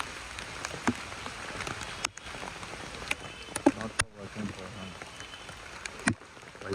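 Heavy rain pours at the Matheran hill station, a soft, steady hiss with scattered sharp drop taps and no voices.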